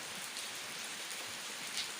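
Light morning drizzle in Surin, Thailand, a soft steady patter of fine raindrops on surfaces, faint and continuous for the whole stretch with no voices.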